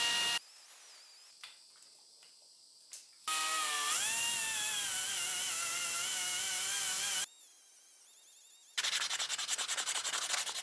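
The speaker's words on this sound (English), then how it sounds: "So we are going to go with the roll-lock disc" An angle grinder fitted with a roll-lock disc sanding the end of a metal axle, a high whirring grind running in a few long bursts with quieter pauses between, close and alone.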